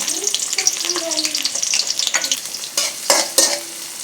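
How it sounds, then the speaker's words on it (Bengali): Onions fry in two spoons of oil for a sweet pumpkin bhaji, crackling and sizzling up close while a spatula scrapes and stirs in quick, uneven strokes. "দুই চামচ তেলের মধ্যে পেঁয়াজ দিয়ে দিব"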